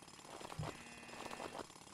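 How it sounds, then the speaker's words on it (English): A jackhammer pounds at a plate in the Roblox game Plates of Fate, giving a steady rapid hammering rattle heard alone at moderate level. "This person's trying to jackhammer the plate right now."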